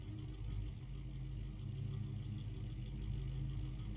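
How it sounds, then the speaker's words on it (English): Several engines running together on a player-built vehicle in Scrap Mechanic, a steady low rumbling idle with unsynced overlapping pulses, continuous and fairly quiet with no talking. "Bunch of engines to get the sound?"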